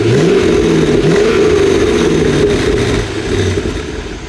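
A car engine revs loudly up close, rising and falling a couple of times before settling toward a lower rumble.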